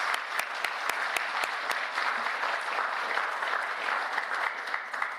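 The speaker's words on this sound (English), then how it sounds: "Let's please give them a round of applause." A graduation and white coat ceremony audience for a Physician Assistant program applauds steadily, a dense, even clapping that holds at a constant level for the whole clip, with a few sharp louder claps near the start.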